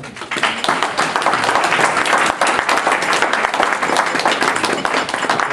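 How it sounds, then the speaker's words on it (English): An audience gives a round of applause at a meeting, a dense, steady wash of many hands clapping at close range that lasts several seconds without any talking over it. "We certainly want a round of applause."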